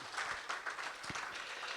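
A church congregation applauds, a soft, distant patter of many hands clapping in a reverberant space, faint and brief.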